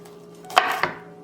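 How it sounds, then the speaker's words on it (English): A knife rough-chops broccoli on a cutting board at home: two sharp, close chops about a quarter second apart over a faint steady background hum, with no talking. "I'm just going to rough chop it a little bit more"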